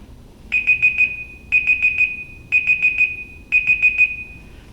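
A kitchen-style timer alarm beeps in four quick bursts of rapid high-pitched pips, each burst separated by a short pause, loud and clear over a quiet background.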